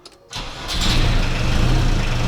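A Volkswagen T3 engine turns over and catches after an engine replacement: a brief crank, then a sudden loud rise into a steady, close, rough idle that holds to the end.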